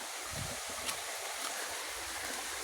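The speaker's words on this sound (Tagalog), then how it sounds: "Ito lalo yung sapa, oh." Murky, mud-colored stream water rushes steadily in a broad hiss, with gusty wind noise buffeting the microphone and no talking.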